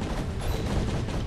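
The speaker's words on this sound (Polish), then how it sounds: "Wybucha!" A bomb blows up in the video game Castle Crashers, a loud rumbling burst of low booming noise that fills the whole short moment, dense and continuous with no voices.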